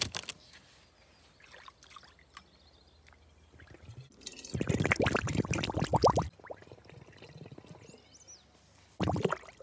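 Warm water, around 35 degrees, is poured into a container for about two seconds as a loud, splashing gush. Quieter drips and trickles come before and after it.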